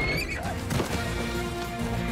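The stallion Spirit from the animated Cimarron herd story lets out a loud, close whinny that rises and trails off, followed by a brief rumble of hooves alone.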